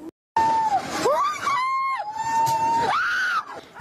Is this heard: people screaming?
yes